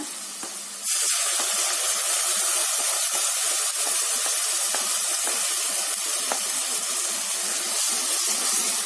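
Masala frying in ghee with onion in a pan for a spicy rice bath gives a loud, steady sizzle that starts abruptly and then hisses evenly without a break.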